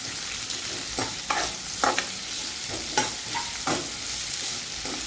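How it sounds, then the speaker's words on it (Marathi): Onion sautéing with a little salt in a pan over medium heat, a steady close sizzle broken by repeated scraping stirs of a spoon at an uneven rhythm, with no voices. "त्याला कांदा हलवून घ्यायचा आहे।"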